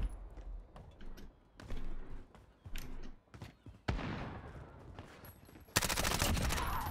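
Rapid bursts of gunfire in a console shooter game crackle in short clusters, then build to a louder, dense volley of shots toward the end.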